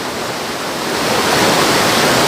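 A rushing, turbulent river roars in a dense, steady wash of water noise that swells slightly louder partway through, with no voices over it.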